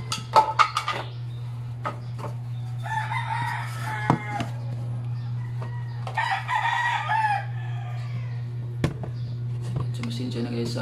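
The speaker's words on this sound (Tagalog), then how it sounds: "maraming manok dito sa kapitbahay" A neighbour's chickens and roosters crow and cluck nearby, with several drawn-out crows rising over a steady low electrical hum, plus scattered clicks and knocks in the foreground.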